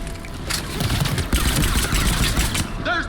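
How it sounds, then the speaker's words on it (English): Artillery fire in a combat video game, a loud rolling volley of thudding blasts and crackling gunfire, near and continuous over about three seconds. "There's the artillery!"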